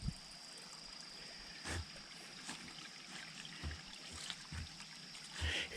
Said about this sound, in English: And it's crossing this little creek.